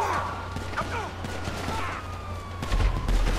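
Rocket launcher fire and blasts in GTA 5 Online during a getaway from police in a Merryweather Mesa, a dense burst of gunfire-like bangs over steady engine hum, with heavier booms near the end.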